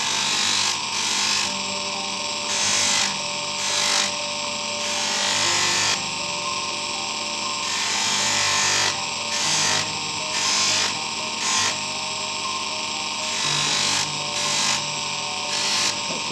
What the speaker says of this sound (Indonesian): pinggir yang sini kita juga poles.